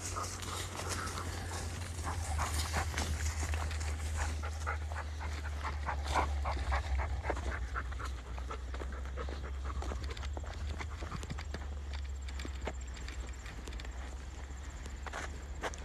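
A husky dog pants steadily while walking outdoors, its quick breathy rhythm running close and continuous throughout alongside footsteps, with a low constant rumble underneath.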